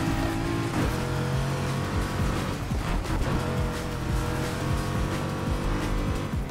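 In a Need for Speed Heat night race, a racing car engine revs and roars loudly and continuously, with tyre squeal and brief surges as the car speeds along.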